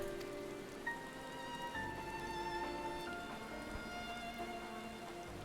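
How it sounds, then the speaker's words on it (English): Rain falls softly in the video game Final Fantasy XIV, a low, even patter beneath sustained musical tones from the game's score, with no voices. "The rain's falling."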